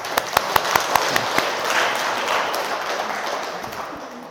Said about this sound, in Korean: 우리 환영의 박수 한번 쳐주시죠